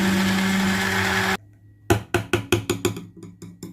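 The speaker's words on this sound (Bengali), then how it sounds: "এবার ব্লেন্ড করে নিচ্ছি" A blender starts on a mulberry drink mixed with jaggery, lemon juice and pink salt: a steady loud motor whir, then a stop followed by a run of short pulsed bursts.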